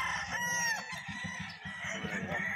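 Rooster crowing loudly at a busy pet market, a long harmonic crow standing out over a dense murmur of crowd noise and other fowl clucking nearby.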